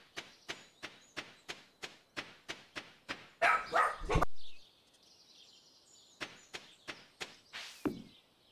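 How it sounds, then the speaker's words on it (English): Dogs barking in a home during a Stardew Valley stream, a rapid run of evenly spaced loud barks, then a louder scuffling burst, a short pause and a few more barks. "That was my real life dogs"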